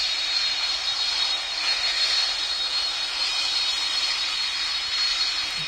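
Boeing 747 jet engines in the PTFS flight game roar as a steady, loud, broadband whoosh that holds level without a break, with no voices over it.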